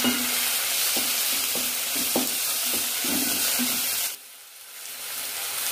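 Chopped tomatoes and green chilies sauté with onions in a hot pan, a continuous sizzle with rhythmic stirring scrapes that cuts off abruptly near the end, leaving quiet.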